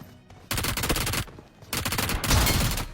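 Gunfire in a video game battle as a player attacks an enemy: rapid bursts of automatic shots in several loud volleys with brief gaps between them.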